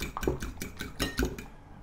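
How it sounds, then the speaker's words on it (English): Eggs whisked in a bowl, a quick series of soft rhythmic clinks and taps of utensil against the bowl, fairly faint and close. "beat the eggs until the egg white and the egg yolks comes together without any noticeable strings of egg white"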